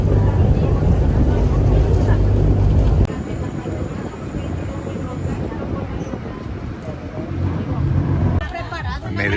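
A boat crossing Lake Pátzcuaro toward Janitzio island, a loud steady motor drone and water rush close by that shifts partway through, with voices talking over it.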